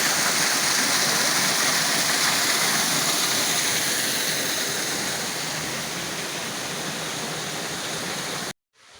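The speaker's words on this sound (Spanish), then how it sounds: "Y aquí tenemos la primera cascada" Waterfall in the Chorros de Milla park in Mérida, a steady broadband roar of falling water that fills the whole clip, loud and close, cutting off abruptly near the end.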